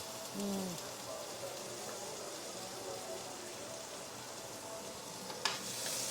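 Hot oil sizzles steadily in a pan with green chilies, dried red chilies, cumin and onion for an okra curry, a dense even hiss that runs throughout with a faint voice briefly underneath.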